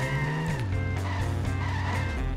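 Lisa's Malibu Stacy car in the Simpsons: Hit & Run video game revs steadily with a drop in engine pitch, accompanied by tire squeal as it skids, loud and close with no talking.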